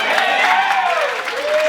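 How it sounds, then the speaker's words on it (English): Wedding guests applaud themselves in a continuous wash of clapping and light cheering, moderately loud and close, with a voice rising over the crowd. "can everyone just give themselves a round of applause?"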